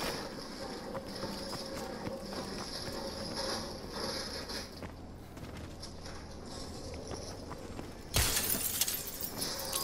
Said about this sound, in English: you smack the toy shop window, throw in a grenade